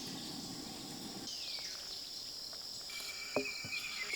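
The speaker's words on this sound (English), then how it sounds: "I just want you guys to listen to how loud the frogs are here." Frogs calling at night at Clear Springs Recreation Area in Mississippi, a dense continuous chorus of trilling and chirping at a fairly even level, with a few sharper nearby calls and no talking.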